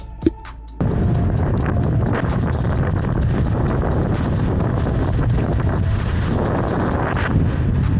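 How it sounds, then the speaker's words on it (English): Strong wind buffets an outdoor microphone with a loud, constant roaring rumble that starts abruptly after a brief quieter moment and holds steady throughout. "I knew it was gonna be windy"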